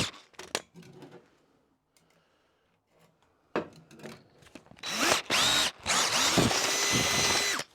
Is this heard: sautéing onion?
no